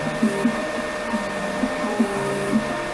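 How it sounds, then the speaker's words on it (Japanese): A Creality K1 Max 3D printer runs its auto-leveling routine, a steady whirring fan hum with repeated soft motor pulses and buzzy steps at a regular rhythm, close and loud with no speech. "なんかオートレベリングが始まりましたね。"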